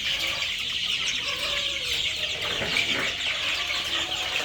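Egyptian Fayoumi chickens on a farm clucking steadily in a dense, continuous flock chorus at moderate distance, with no talk over it.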